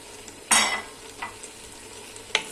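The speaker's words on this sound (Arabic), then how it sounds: "نضيفو دابا الدجاج مقطع طريفات صغار" Small chicken pieces sizzle as they fry in a pressure cooker for seafood paella, a steady close crackle broken by a stirring scrape and a second clatter, with no voices.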